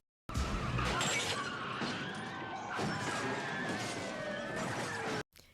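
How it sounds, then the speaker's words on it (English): Multi-car pile-up crash scene from the 1984 film Beverly Hills Cop, loud sustained crunching and shattering of metal and glass as vehicles slam together, with several impacts over a few seconds. "They gave me more car crashes like I wanted. It's a pile up."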